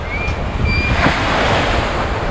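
Water pours out of the open gates of the Nagarjuna Sagar dam in a continuous loud roar, heard alone with a broad, unbroken rushing quality.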